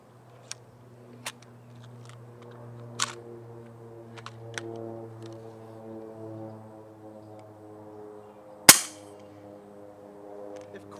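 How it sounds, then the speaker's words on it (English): An FX Dreamline .22 regulated air rifle with a non-baffled shroud fires one loud, sharp crack near the end. A few faint clicks come earlier, over a steady low humming tone. "The Dreamline's quiet enough, but its non-baffled shroud isn't really totally sufficient in taming this gun's"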